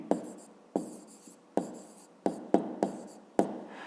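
A pen writes on paper while someone works a fifth-grade maths exercise, making short scratchy strokes in about six quick bursts, each starting with a sharp tap and fading out.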